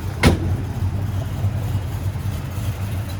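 A restored 1966 Chevrolet Nova restomod with a small block V8 runs steadily nearby, a low rumbling idle with one brief sharp click near the start and no talk.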